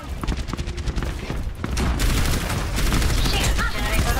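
An enemy turret in Overwatch firing in a dense automatic stream, loud and close, with rapid cracks merging into a continuous roar that grows heavier after the first two seconds.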